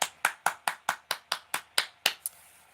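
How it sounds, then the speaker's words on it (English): A single person claps their hands about eleven times in a quick, steady rhythm, close and crisp, each clap sharp and bright, trailing off after a final pair. "I'm just giving us a round of applause"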